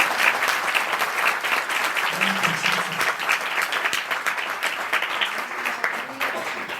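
Loud, sustained applause from a church congregation during a prayer service, dense clapping filling the whole stretch with a steady crowd roar and a faint voice beneath.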